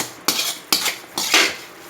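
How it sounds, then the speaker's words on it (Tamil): Goat blood poriyal being sautéed in a pan, a metal spoon scraping and clanking against it in three distinct strokes, each followed by a soft hiss, close and fairly loud with no talking. "இப்போ நல்லா வதக்கி விட்டுக்கோங்க."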